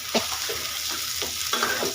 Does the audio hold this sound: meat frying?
yes